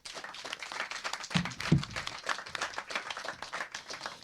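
A live audience claps for a band during a public radio recording at a French media library, steady moderate applause from a modest crowd with a few sharper nearby claps.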